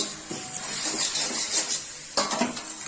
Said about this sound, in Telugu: ఇలా బాగా కలుపుకుంటూ ఉండాలి, లేదంటే కింద మాడిపోతుంటుంది.